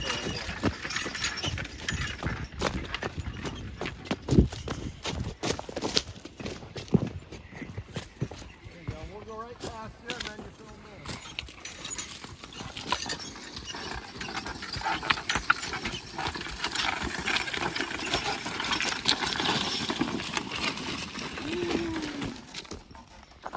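Draft horses pull a 12-inch plow across a field, hooves thudding and clopping with steady rustling, clanking and soil noise throughout; someone talks over it at times.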